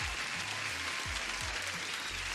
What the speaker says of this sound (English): Applause to Ukando, guys.